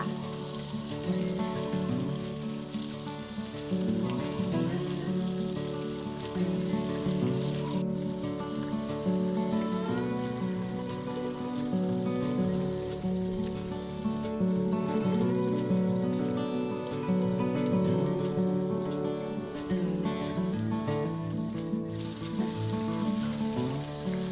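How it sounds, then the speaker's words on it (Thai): Chicken fries in hot oil for crispy fried chicken, making a continuous dense, rain-like crackle and sizzle. It holds steady for the whole stretch over a soft tonal background. "แล้วก็ทอดเรื่อยๆได้เลยค่ะ"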